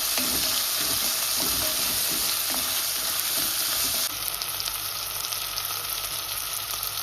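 Chopped tomatoes sauté in a pan for a homemade Tamil fish curry, giving a steady, close sizzle with soft stirring scrapes throughout, the frying hiss easing slightly partway through.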